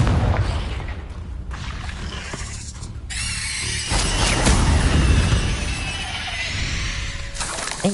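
Confringo spell explosion in the video game Hogwarts Legacy, with a heavy booming blast followed by rumbling debris and crackling, then a second burst, loud and close over a dense battle backdrop.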